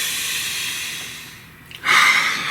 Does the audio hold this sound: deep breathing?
yes